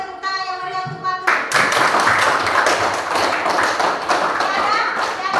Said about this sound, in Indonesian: kasih tepuk tangan yang meriah untuk Patung